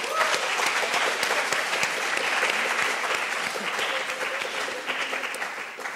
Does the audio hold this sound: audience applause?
yes